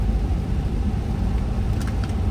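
Cars driving along a road by an underwater tunnel after light rain, a continuous low rumbling engine and tyre drone passing close, steady and fairly loud.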